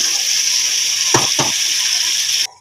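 Chicken liver frying in a pan with ginger garlic paste, a loud steady hiss of sizzling oil held close throughout, broken by two brief scraping stirs, then cutting off abruptly near the end.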